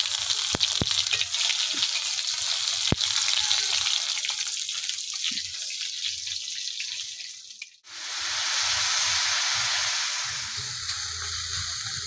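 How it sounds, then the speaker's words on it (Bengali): Mustard and garlic sizzle loudly in hot oil in a pan, a dense frying hiss that dips briefly and then swells back up, with a few clicks along the way. "এই যে রস ই দিলাম সরষা আর এই যে রসুন দিলাম এই যে রসুন"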